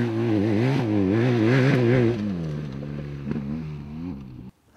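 A BMW GS 1250 motorcycle engine revs and pulls hard, its pitch rising and falling in steady waves before dropping off abruptly at the end.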